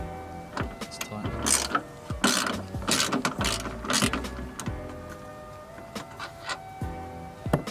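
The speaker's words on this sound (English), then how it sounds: "these 3 bolts for the wiper motor, and they are an 8mm, so I'm going to take them off quickly now" Ratchet loosening the 8mm wiper motor bolts on a Ford Fiesta ST, a series of quick metallic clicks in short bursts, close and fairly quiet, with a voice talking briefly.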